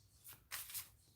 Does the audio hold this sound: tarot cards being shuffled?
yes